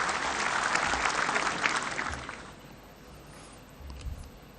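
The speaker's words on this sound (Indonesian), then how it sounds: "kita berikan aplaus pada teman-teman dari partai-partai politik yang datang malam hari ini" Loud applause from an audience at the NasDem Party's third congress fills the first half, then fades to scattered, softer clapping.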